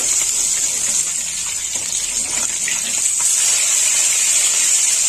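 Snakehead fish rubbed with salt and turmeric frying in hot oil after being turned, a continuous close sizzle and rushing hiss with light crackles, steady and without talk.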